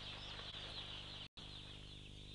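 Thousands of chickens packed into a vast windowless industrial shed make a dense, continuous clucking din, fairly faint and unbroken apart from one very brief dropout.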